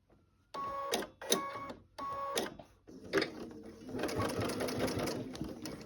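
A sewing machine runs a 2.5 stitch along the third side of a folded fabric corner, in short bursts that give way to a longer continuous whir. No one speaks.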